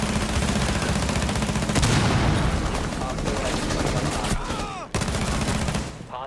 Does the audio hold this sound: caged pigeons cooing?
no